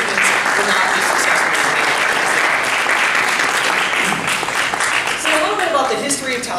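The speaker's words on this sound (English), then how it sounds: "everyone should give a round of applause to their family members and their guests" An audience at a college honor society induction applauds the students' families and guests, with steady dense clapping filling the room from start to finish and fading slightly near the end.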